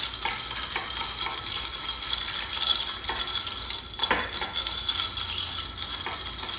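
Ice rattling and clinking steadily in a mixing glass as an Aviation cocktail is stirred, a continuous close scraping swirl with small bumps, no talk.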